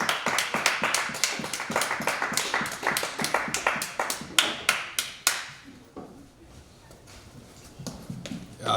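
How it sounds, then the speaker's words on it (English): Comedy club audience at a live stand-up show clapping as a comic takes the stage: sparse, distinct handclaps in a loose rhythm for about five seconds, then fading to quiet room noise before a final clap. "Everyone, put your hands together."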